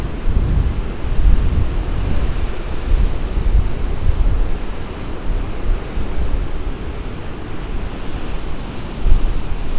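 Steady roar of ocean swell and surf breaking along a rocky coast near Petty Harbour and Cape Spear, a continuous broadband wash with slow surges, heavy wind buffeting the microphone throughout.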